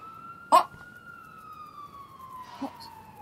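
Police car siren in the video game Life is Strange, a faint steady wail drawn out over a few seconds in the background, with brief louder blips and no talk over it.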